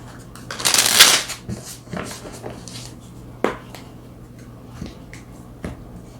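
Tarot cards are briskly shuffled close by in one dense burst, followed by sparse, soft taps and flicks as single cards are drawn and laid down in a quiet room with a low steady hum.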